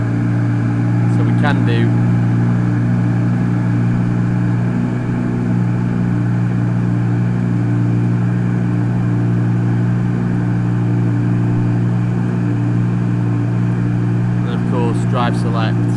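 A 2017 Audi R8 5.2 V10 Plus idles steadily and loudly throughout with a deep, even engine drone, while someone speaks briefly near the start.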